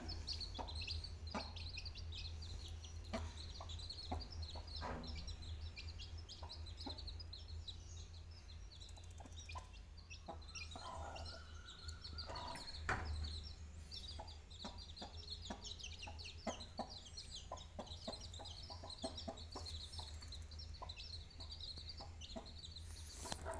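A naked neck hen clucking in low, repeated bursts at close range, with faint chirps of chicks mixed in and no talking.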